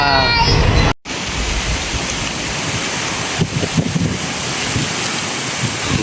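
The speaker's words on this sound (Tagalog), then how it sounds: "lakas ng hangin. Bagyo na" Strong typhoon wind buffets the microphone in a constant roaring rush, with a brief dropout early on and faint voices barely audible beneath.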